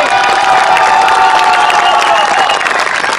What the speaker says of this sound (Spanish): Aplauso para la jefa de Santa Fe